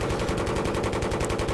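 Rapid automatic gunfire from an anti-air gun targeting an AC-130 gunship in Battlefield 3, a loud, dense stream of shots with no gaps.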